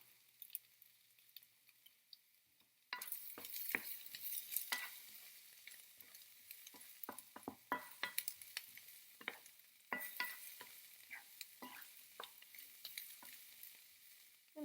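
Potato hash with fresh thyme is stirred in a hot pan, with a soft sizzle and repeated scraping strokes and clicks. The frying becomes louder after a few seconds and keeps going with no talking.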